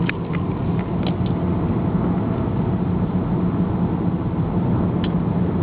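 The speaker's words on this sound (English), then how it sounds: "Road noise is fairly low." Inside a moving 2.3-litre Mercury Milan on low-profile 17-inch rims, a steady low rumble of tyre and road noise fills the cabin, with a few faint ticks and creaks near the start.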